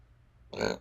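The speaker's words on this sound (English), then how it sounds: "Sorry for burping" A single short, close burp from a person breaks an otherwise quiet background near the end.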